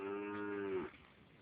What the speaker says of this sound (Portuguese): Ó os bois.